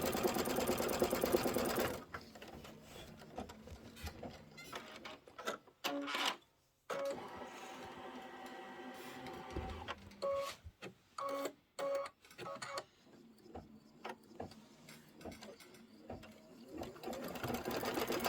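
A Kimberbell embroidery machine stitches outer quilt border strips in the hoop, its rapid mechanical needle whir running in stretches broken by short pauses and clicks, close and fairly quiet.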